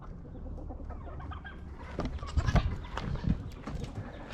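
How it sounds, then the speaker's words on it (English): Chickens clucking and squawking in an agitated flock, several birds calling at once with louder bursts toward the end. "Chickens are going nuts."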